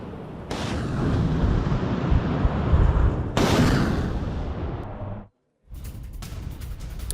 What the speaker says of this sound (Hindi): MLRS से यूक्रेनी ठिकानों पर बारूदी बौछार कर दी गई